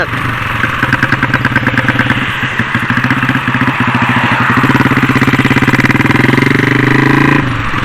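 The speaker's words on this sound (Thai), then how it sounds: "ก็คือเสียงรถเนี่ยดังมากๆครับเพื่อนๆ" A custom 125cc four-valve motorcycle engine runs loud and close, a steady throbbing rumble with rapid firing pulses that swells slightly before cutting off sharply near the end.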